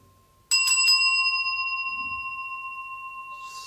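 A dome-shaped Full Moon singing bowl is struck once and rings out with a bright, bell-like tone and clear overtones, sustaining with a slow shimmering pulse and fading gradually.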